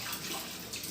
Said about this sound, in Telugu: ఇప్పుడు వాటర్తో కూడా కడిగేస్తున్నా